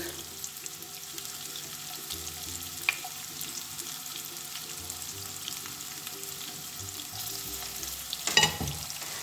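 Garlic fries in a pan with a steady close sizzle, stirred now and then, and a clatter near the end.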